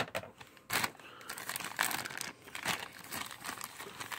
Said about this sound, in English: I'm going to use the scissors to cut it open.